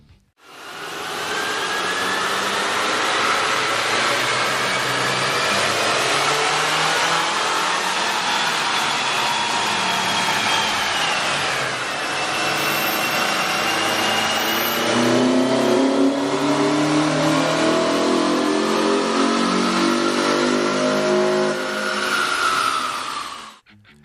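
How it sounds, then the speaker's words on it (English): A car engine with a K&N cold air intake runs on a dyno. It gives a loud, sustained roar and whine that rises smoothly through the revs, dips briefly partway through and then climbs again. Intake rush is steady throughout, and no voice is heard. "With the air intake installed, we ran the vehicle on the dyno to test the sound comparison versus the stock intake."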